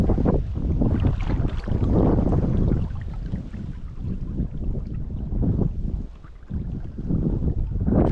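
Strong gusting wind buffets the microphone beside the River Eden while trout fishing, a loud, continuous low rumble that swells and dips, with no voices.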